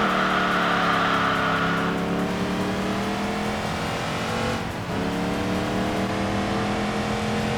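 A roughly 400-horsepower race car engine in Enthusia Professional Racing drones loudly and steadily, its pitch sliding down, briefly dipping, then climbing again as the car drives on, with no talk over it.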